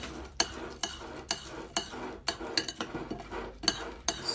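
A spoon stirs and scoops cereal in warm milk in a bowl, giving repeated clinking taps and scrapes against the bowl in a fairly regular rhythm, close up with no talking.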